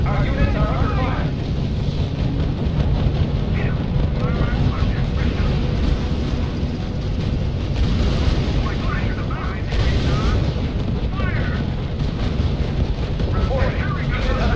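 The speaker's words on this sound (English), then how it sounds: "Our units are under fire." Dense, continuous battlefield rumble from the R.U.S.E. strategy game, with booming artillery and gunfire layered under aircraft drone, loud and unbroken throughout, while a radio-style voice reports in the mix.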